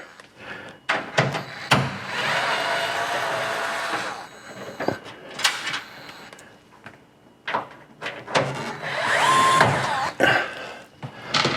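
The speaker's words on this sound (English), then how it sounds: "I'm going to take off these 3 screws right here." Three screws being removed during yearly home maintenance: a series of scraping, clicking screwdriver turns and handling knocks, close and moderately loud, in irregular bursts with short pauses between.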